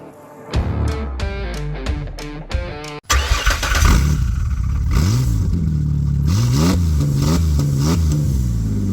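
Ford Ranger engine with a leaky exhaust, loud and close: several sharp staccato revs, then a sustained roaring rev with rising and falling pitch and a raspy, blatty exhaust tone.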